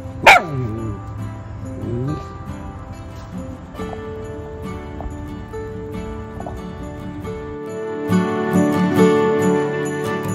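A dog barks at a buzzing bee, with a couple of loud close yaps near the start amid a busy backdrop of steady tonal music and rising sounds toward the end.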